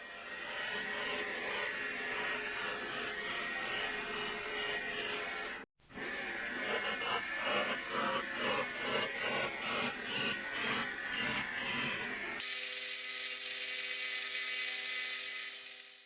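Steady whirring and rasping of a spinning wood lathe as a tool works a garden dibber, continuous and close, with a brief cut in the middle and a smoother hum at the end.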